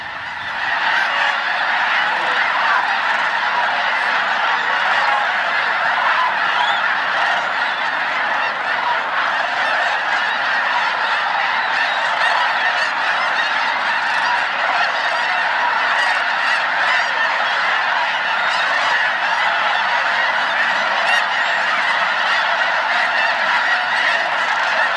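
A large flock of geese honks continuously at Bosque del Apache wildlife refuge, a dense, loud, steady chorus of overlapping calls with no pauses, heard without any talking.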